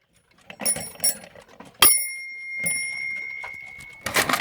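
Westclox alarm clock bell: a few quiet mechanical clicks and knocks, then one sharp metallic strike that rings out with a long, clear decaying tone, and a louder burst of rapid ringing at the very end.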